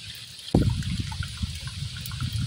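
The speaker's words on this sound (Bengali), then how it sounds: "এখান থেকে পানি ফালাই দিলাম" Water is poured off boiled taro stems in a sudden splash that settles into a gurgling, trickling flow, close and alone.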